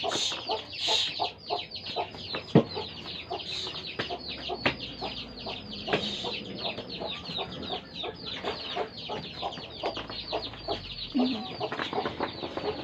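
Several chickens cluck and squawk nearby in a busy, overlapping chorus, with occasional louder calls standing out.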